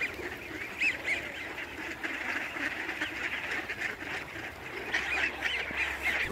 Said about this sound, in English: What are you feeding the ducks here?